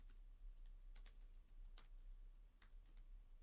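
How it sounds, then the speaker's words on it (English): A few computer keyboard keystrokes typing a command into a game console, heard as sparse, irregular clicks with short pauses between them, fairly close and alone. "if I bring down the console and type give quest"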